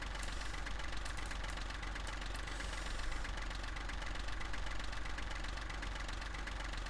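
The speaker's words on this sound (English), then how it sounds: "It's funny how Courseplay doesn't turn the engine off" A tractor engine idles steadily in the Farming Simulator 15 video game, a constant low, loud rumble with slight knocking, running alone without pauses.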